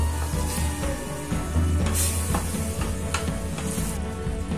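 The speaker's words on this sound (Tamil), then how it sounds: "இப்போ மிக்ஸ் பண்ணிடலாம்" Moong dal khichdi masala sizzles steadily in a hot pan while a utensil stirs and scrapes, with occasional sharper crackles and clinks.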